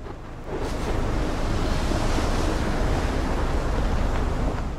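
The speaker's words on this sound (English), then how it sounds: "Oh, it's a tornado on water." Storm wind and crashing surf around a waterspout tornado in the video game Life is Strange, a steady roaring wash of water and gusts that swells up after a quiet first half-second and stays loud throughout.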